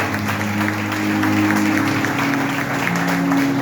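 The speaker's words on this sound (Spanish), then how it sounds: "Dale un aplauso al Señor entonces" A church congregation applauds steadily with continuous clapping, loud and close, with a low sustained hum beneath.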